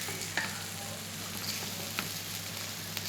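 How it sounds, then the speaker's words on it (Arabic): Rice sizzles steadily in a hot pan as it is stirred while cooking for Alexandrian koshari, a constant near frying hiss with a few soft scrapes of the spoon. "تفضلي تقلبي فيه شويه كده."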